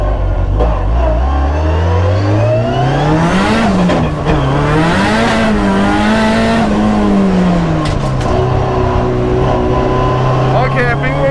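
An SR20-engined Mazda MX5 drives hard, its engine droning loud and close throughout, rising and falling in pitch as it revs and shifts, with brief tire squeal and a person talking over it.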